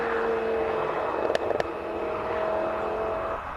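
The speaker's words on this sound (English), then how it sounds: "That's the BMW diesel." A BMW diesel race car at the Simola hill climb roars past with a steady engine drone, heard from a distance, with a couple of sharp clicks in the middle.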